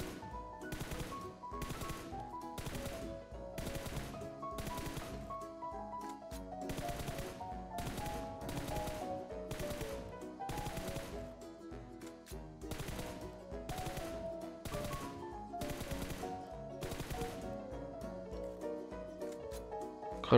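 Rapid bursts of gunfire during red dot sight shooting practice in a video game, loud repeated automatic volleys in an uneven rhythm over about twenty seconds, up close with no talking.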